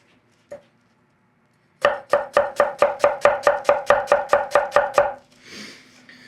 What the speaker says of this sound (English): That was one of the nicer onion dices I've done in a really long time